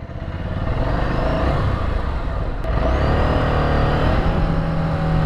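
A Ducati Scrambler Sixty2 motorcycle being ridden on gravel, its engine droning steadily and close with continuous wind rush over it, rising slightly in pitch toward the end.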